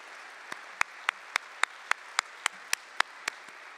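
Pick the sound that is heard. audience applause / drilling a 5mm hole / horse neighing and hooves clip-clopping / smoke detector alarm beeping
audience applause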